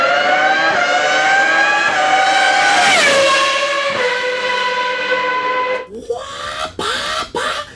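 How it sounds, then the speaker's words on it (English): A V10 Formula 1 engine screams loudly as it accelerates, its pitch climbing steadily through the gears before cutting off into a few sharp, abrupt bursts. "but that was a V10 as well in Mika's car. Yes. The way that the engine pulled."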